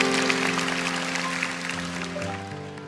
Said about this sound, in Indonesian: Kasih tepuk tangan untuk Tuhan kalau Anda setuju.